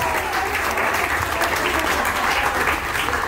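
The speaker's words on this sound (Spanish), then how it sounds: "Fuerte el aplauso para él." A crowd applauds steadily and loudly, with sustained clapping and some cheering throughout.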